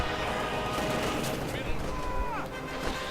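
Light machine gun fire crackles in the Company of Heroes 2 strategy game during a 1v1 match, rapid battle bursts mixed with other combat noise under continuous commentary.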